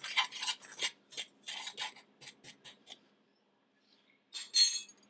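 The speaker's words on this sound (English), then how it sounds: "I'm just going to stir that together a little bit." Ingredients for a banana split trifle are stirred together in a bowl, making bursts of close clinking and scraping that stop for a moment and then return in one more short flurry.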